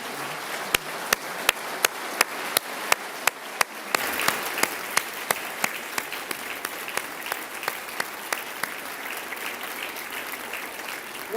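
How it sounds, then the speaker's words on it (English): An audience at a state of the State address gives a round of applause, a broad steady clapping that swells after a few seconds, punctuated by sharp, regular louder claps near the front. "let's give him a round of applause as well"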